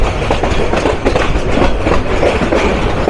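The Tista Express rolls onto platform 1 of Mymensingh railway junction, a loud, steady rumble with rhythmic clickety-clack of wheels over rail joints heard close from inside the train.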